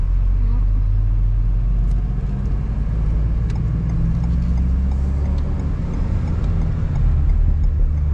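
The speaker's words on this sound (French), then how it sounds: "l'Audi 80" An Audi 80 car driving during the Rallye du Coeur Paris, a steady low engine drone with road rumble heard from inside, constant and loud, with faint voices underneath.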